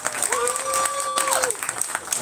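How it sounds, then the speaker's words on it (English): Applause at a wedding reception after a dance: a crowd claps steadily and moderately loud, with a whistle-like tone rising above the clapping midway. "Give her a nice round of applause."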